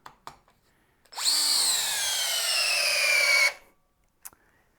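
Harbor Freight Hercules drill at speed 2 driving a lag screw into wood: after a couple of small knocks, one whining run of about two and a half seconds, its pitch sliding slowly downward under load, then a clack and quiet.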